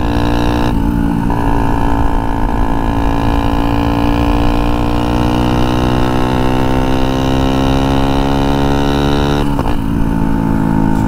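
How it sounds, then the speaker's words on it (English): Turbocharged Honda Grom motorcycle engine running steadily and loud throughout, its tone rising smoothly as revs climb, then dropping and rising again near the end, with a whining turbo layered over the engine note. "I hope you guys can hear the turbo noise."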